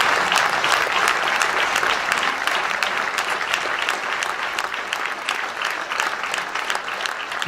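An audience at a town ceremony in France gives a steady, sustained round of applause in tribute to deceased members of the community, dense even clapping from a large indoor crowd without talk.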